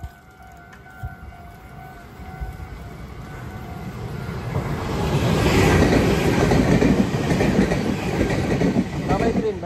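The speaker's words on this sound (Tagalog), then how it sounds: "Bye-bye train, bye-bye." A train passes on the rails, rumbling faintly at first and then growing loud and close with a broad, rushing clatter of wagons that stays heavy to the end.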